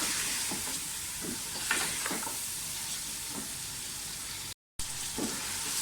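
Red chili powder, garam masala, coriander-cumin powder and salt fry in a pan for mutton korma, a steady close sizzle with intermittent stirring scrapes and a brief dropout near the end.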